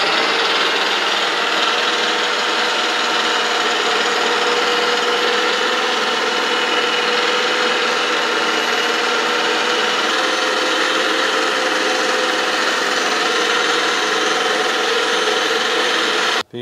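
A mixer grinder fitted with a citrus juicer attachment runs steadily while juicing oranges, giving a loud, continuous whirring rasp with no pauses, cutting off abruptly at the end.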